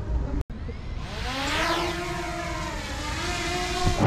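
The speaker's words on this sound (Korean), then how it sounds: "여기까지 왔으니까 드론을 한번 날려보겠습니다" A camera drone flies outdoors in Vietnam with a steady, buzzing propeller whine. Its tones rise and sweep as it lifts off and climbs, staying fairly loud and continuous over soft background noise with no talking.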